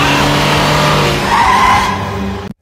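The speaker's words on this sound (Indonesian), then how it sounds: "Dan pas udah deket, tiba-tiba dia ngerem." A car braking suddenly in a film scene, a loud tire skid that holds for about two and a half seconds, then cuts off abruptly into silence.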